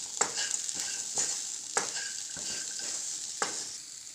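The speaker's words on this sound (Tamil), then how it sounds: "நம்ம போட்டிருக்க இது கூட இந்த சுண்டலையும் சேர்த்து நல்லா கிளறி விடலாங்க." A spoon stirs chickpea sundal with grated coconut in a pan, giving about six distinct scraping knocks spaced roughly half a second to a second apart over a soft, steady sizzle close by.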